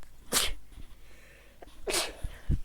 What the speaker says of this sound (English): That was a sneeze for you guys.